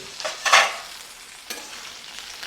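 Cumin seeds hitting hot oil, a brief bright crackling burst of sizzle followed by quieter spattering and a second short crackle, close and fairly soft.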